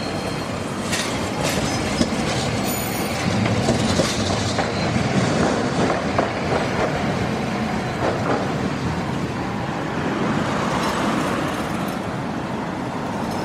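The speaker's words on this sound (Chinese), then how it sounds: "这辆电车开往富山大学前方。" A tram running along a street in Toyama, heading toward Toyama University, rumbles past nearby with a steady rolling roar, wheel clatter and faint squeals, joined by passing traffic noise.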